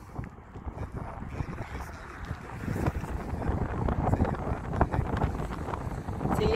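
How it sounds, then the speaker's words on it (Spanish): Strong wind buffets the microphone on the steep Norwegian mountain road at Trollstigen, a loud, continuous roar with gusts building toward the end, and a voice speaks briefly beneath it. "Ay, es que muchísimo viento."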